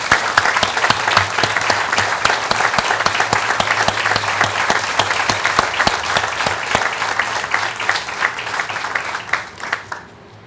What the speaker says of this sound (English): Let's give them a big hand and a big applause.